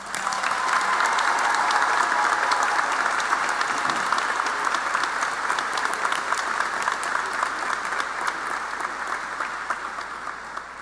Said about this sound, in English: Please join me in a round of applause for the Color Guard, the Keystone College Symphonic Band,